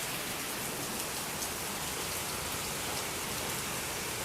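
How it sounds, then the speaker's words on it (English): Steady rain from Hurricane Matthew falls on surfaces all around, a dense, even hiss with soft pattering drops throughout and no voices. "I think it's been raining for at least a few minutes."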